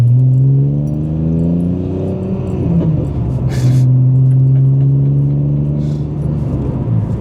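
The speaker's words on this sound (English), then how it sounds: "I have to talk in between revving it." A manual-swapped BMW E46 330ci inline-six rises and falls through steady revs, a loud, close engine drone with clear harmonic tones that climb, dip and climb again, with no talking over it.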